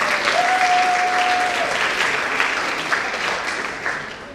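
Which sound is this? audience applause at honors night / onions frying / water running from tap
audience applause at honors night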